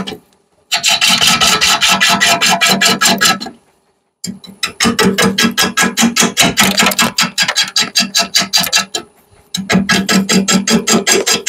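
A bowl gouge cuts a rough, out-of-true wood blank spinning on a lathe, giving loud sustained rasping and scraping in long bursts broken by brief pauses, a rhythmic chatter through each pass with no talking.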